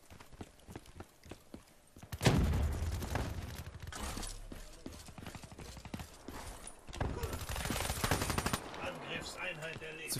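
Automatic weapons fire in bursts in a Call of Duty Black Ops 3 multiplayer match. Sharp, rapid rattling shots come in clusters with heavy, loud stretches, and rhythmic footstep-like clatter runs between the volleys.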